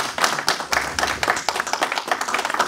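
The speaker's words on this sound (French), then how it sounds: "est-ce qu'on peut applaudir?" A small group claps briefly at a press conference for a music single release in Paris, with uneven, scattered hand claps over a couple of seconds.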